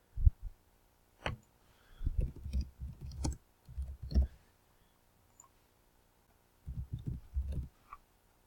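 Computer keyboard typing and mouse clicking while writing a post, quiet close taps in short irregular bursts separated by pauses.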